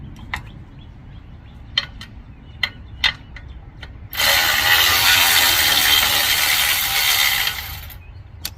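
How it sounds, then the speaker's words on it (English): A wrench tightens a bolt on the engine mount of a Monster Moto mini bike fitted with a Honda GX160 163cc engine: a few sharp isolated clicks, then a sustained three-second ratcheting rasp, close and loud. "Put your wrench on."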